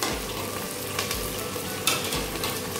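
Onion, garlic, ginger and green chilli frying with whole spices for a mutton curry: a close, steady sizzle broken by a few low thuds and stirring scrapes, no voices.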